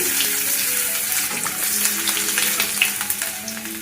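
Oil sizzles steadily as chopped garlic and ginger fry with cinnamon, cardamom, cloves and dried chillies for chilli chicken, making a continuous close crackling hiss with a few sharper pops and light utensil taps.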